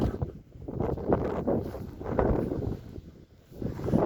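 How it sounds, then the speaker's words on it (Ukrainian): Gusty wind buffets the microphone with a rough, rumbling roar that rises and falls unevenly, close and steady throughout with no voices. "Вітряно доволі сьогодні."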